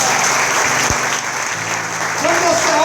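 A church congregation in a Portuguese-language service breaks into loud, sustained applause, a dense roomful of clapping with voices mixed underneath.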